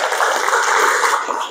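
A church congregation claps together in steady, dense applause, loud and close, sustained without a break over a short stretch.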